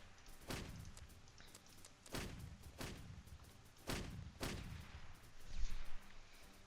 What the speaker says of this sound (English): Looks like the artillery is actually doing a ton of work here